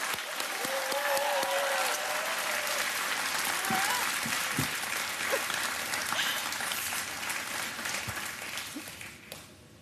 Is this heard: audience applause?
yes